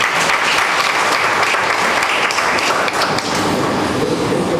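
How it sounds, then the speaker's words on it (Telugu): Audience applause at a Founders' Day function, dense loud clapping from a large crowd sustained evenly for several seconds, with no voices over it. "ఒకసారి అందరం చప్పట్లు కొడదాం."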